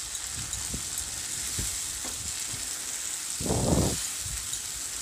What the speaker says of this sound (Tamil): இந்த எண்ணெயிலேயே போட்டு அதையும் நல்லா வதக்கி விட்டுறலாம்.